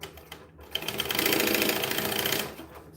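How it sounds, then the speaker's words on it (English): Sewing machine stitching the short ends of a fabric bag, a brief, fast rattling run of needle strokes lasting about two seconds between quieter handling noises. "we're going to sew the little short ends"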